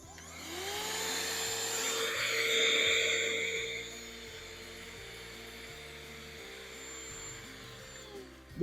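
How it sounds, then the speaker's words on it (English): A battery-powered garden vacuum cleaner runs in a garden with a steady high whine and motor hum, rising slightly early on before settling to a constant drone until it cuts off at the end. "The only thing with these vacuum cleaners, they run out of power pretty quickly, so it's going to be due for charging shortly."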